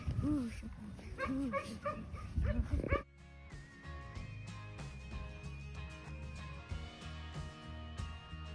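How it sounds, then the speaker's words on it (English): Young puppies from a farm litter yip, whimper and bark in quick, high, close bursts for a few seconds, then a sudden cut to quiet background music. "We raised a couple litters of puppies this year too"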